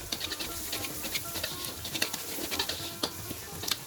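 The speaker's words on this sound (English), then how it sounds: "Give it a good stir as well." Spoon stirring black pepper and other spice powders together in a bowl, a quiet, close scraping and patter repeating throughout.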